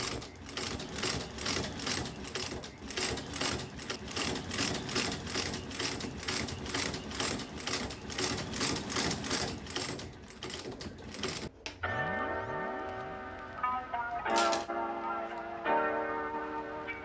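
A stitching machine sewing the resoled welt of an Allen Edmonds shoe, a fast regular mechanical chatter running steadily for about eleven seconds before stopping, followed by quieter tonal ringing sounds.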